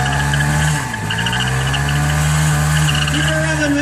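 A motorcycle doing a burnout holds a loud, sustained high rev close by, the engine droning steadily with slight pitch dips and tire squeal hiss, crowd noise faintly underneath.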